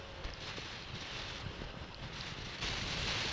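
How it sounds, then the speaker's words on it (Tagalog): Wind gusts and buffets against the microphone on an open rural road during a motorcycle ride, a steady rushing roar that swells louder near the end, with no talking. "Mahangin dito mga kabukid."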